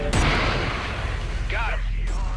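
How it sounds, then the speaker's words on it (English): A missile launches from a ship in the space combat game Everspace 2, a loud sharp burst followed by a whooshing rush and a second launch, over a constant engine drone. "There's that extra missile."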